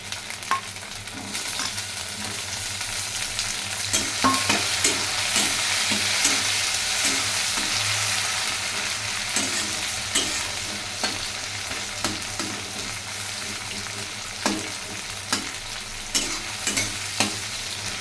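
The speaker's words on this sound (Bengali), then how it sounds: "পেঁয়াজ লাল হয়েছে, এখন কাঁচা লঙ্কা আর টমেটো দিয়ে দেব" Browned onion, green chilli and tomato fry in a pan while being stirred, a steady sizzle broken by repeated scraping strokes of the spoon, close and moderately loud.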